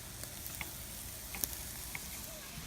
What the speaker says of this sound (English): back on those skewers, Mr. Cameraman, they're starting to have a nice sizzle now.